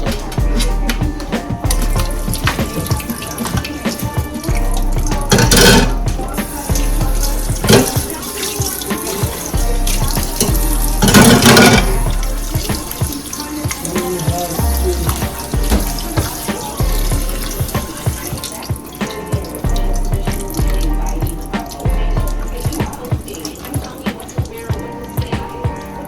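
Tap water running steadily into a kitchen sink while raw chicken is washed, a loud continuous splashing flow with occasional louder surges and handling noises.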